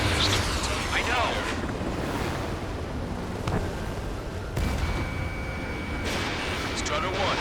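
Anti-aircraft fire at a base in Ace Combat 7, heavy booming bursts and roaring wind-like rumble, with a few sharp louder shots standing out near the start and around the middle.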